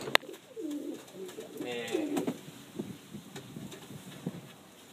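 A pigeon coos in soft, rolling phrases close by, with faint outdoor background noise and a few small knocks around it.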